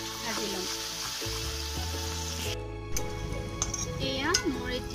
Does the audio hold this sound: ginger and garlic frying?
yes